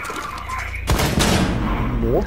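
Gunfire in the tactical shooter game Rainbow Six: a quieter stretch of game sound breaks into a sudden loud burst of shots, followed by ringing echoes and game effects, with a player's voice under the action.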